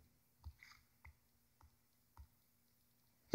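Soft, sharp clicks from pressing the stereo/party button on a JBL Flip 3 portable speaker, about five faint, separate taps spaced roughly half a second apart in a quiet room.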